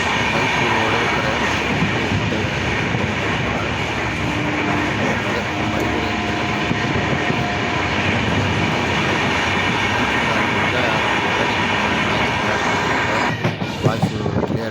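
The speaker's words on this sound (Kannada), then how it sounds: "ಟ್ರೈನ್ ಹೋಗೋ ಸೌಂಡು ಇರುತ್ತಲ್ಲ, ಸೊ ಹಾಗಾಗಿ ನಾಯ್ಸ್ ಜಾಸ್ತಿ ಬರುತ್ತೆ" Loud, steady rumble and rattle of the Janshatabdi express running between Hubballi and Bangalore, recorded from inside the moving train, continuous for the whole stretch with a brief jolt near the end.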